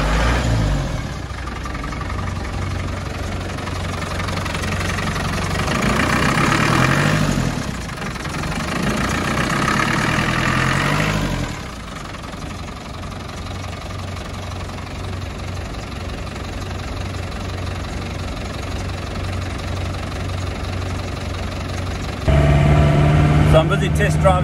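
A Land Rover Series 3 88-inch with a retrofitted 300 Tdi diesel idles after a cam-belt and timing reset, giving a steady low clatter that briefly swells. Someone talks over the engine for much of the time.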